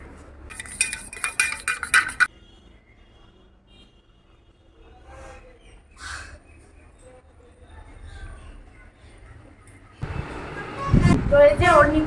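A spoon mixing sattu powder with water for a sharbat, heard as bursts of rapid metallic clinking and scraping at the start and again at the end, with a quieter stretch of faint background sound between them.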